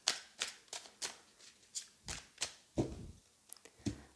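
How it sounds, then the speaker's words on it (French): Playing cards being shuffled by hand before a tarot reading, a quiet close series of crisp riffling bursts, about ten in a fairly regular rhythm. "Je vais encore mélanger un peu avant de faire la coupe"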